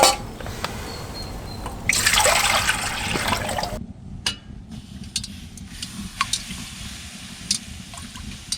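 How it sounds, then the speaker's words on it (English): Running water splashes and trickles during a quick rinse at a winter camp set up in a shed, loudest in a short gush near the middle, followed by softer drips and clinks. "Get that quick rinse out."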